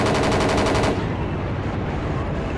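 Rapid gunfire from the Battlefield Yugoslavia video game, loud sustained automatic bursts for about a second, then fading into a dull rumbling game background.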